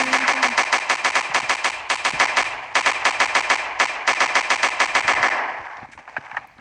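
Rapid automatic gunfire from the blocky online shooter Blockman Go Bullets Fly, loud sustained bursts of rattling shots with brief pauses between strings, then trailing off into scattered single pops.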